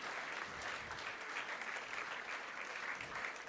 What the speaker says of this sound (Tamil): the Honorable Governor will now felicitate Thiru R. Parthiban. Amidst a good round of applause